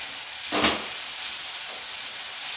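Coconut modak filling with ghee stirred in a pan, a soft steady sizzling hiss with one brief brighter scrape of the spoon near the start and a faint second one later.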